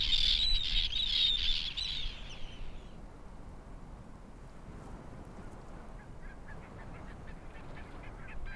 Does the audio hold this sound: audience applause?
no